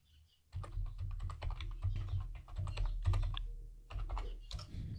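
Rapid clicking keystrokes on a computer keyboard as a passphrase is typed while generating an SSH key on an Ubuntu setup, an irregular run of close, crisp taps with a brief pause near the end.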